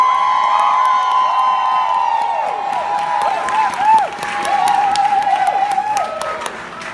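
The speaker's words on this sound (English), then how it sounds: "Y'all better clap loud for them." A crowd at a business directors event claps loudly and cheers, dense sustained applause with whoops and shouts rising over it, and a high tone ringing through much of it.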